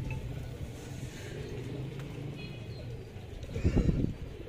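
Pigeons of the pure ali breed cooing nearby, soft repeated coos over a low murmuring background, with a brief louder burst of cooing near the end.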